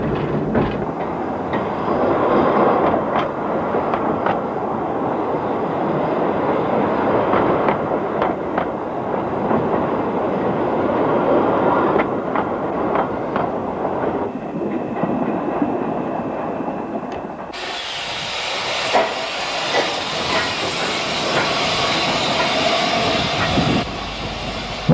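A steam train rumbles steadily nearby, with a loud broadband engine roar that shifts to a brighter, hissing rush partway through; no voices.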